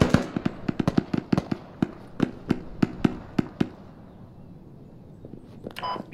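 Gunshots ring out in the military shooter Squad, a rapid string of sharp cracks that slows to spaced single shots before tailing off into quiet.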